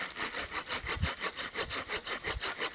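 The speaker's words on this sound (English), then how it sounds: "I'll saw this off on the end, take a look at it, see how rotten it is" A hand saw cuts back and forth through rotten deadwood at a bushcraft shelter site, with steady rhythmic rasping strokes, roughly a dozen passes, close and fairly loud with no talking.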